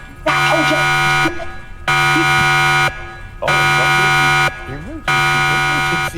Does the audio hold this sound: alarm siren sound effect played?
yes